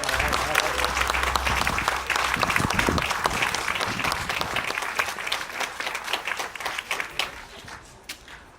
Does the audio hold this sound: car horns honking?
no